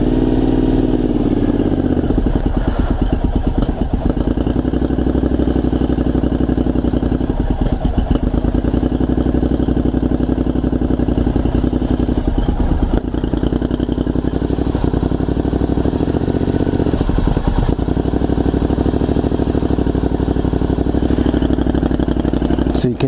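A Triumph Scrambler 900 motorcycle engine fires up on a cold morning in the 40s °F and settles into a loud, close, slightly stumbling idle that keeps running steadily, with talking over it.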